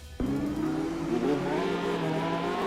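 A Ronin car engine in CarX Drift Racing kicks in suddenly and holds a loud, buzzing, tonal drone that climbs and falls slightly in pitch, heard alone.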